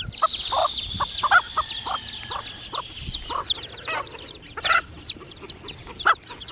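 Loud, high-pitched peeping from chicks, many rapid chirps overlapping continuously and close by.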